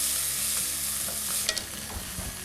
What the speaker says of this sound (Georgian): ნახე, კარგად იბრაწება ხისოკო.